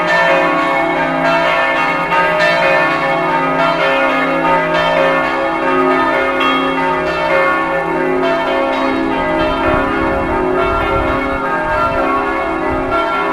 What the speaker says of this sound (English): I may have to wait until those bells stop